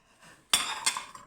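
Gilded dessert plates lifted from a parcel clink against each other and against cutlery, a sharp ringing chink followed by a second, lighter clatter, close and fairly quiet.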